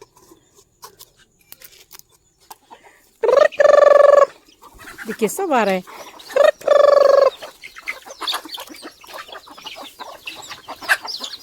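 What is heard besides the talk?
chickens clucking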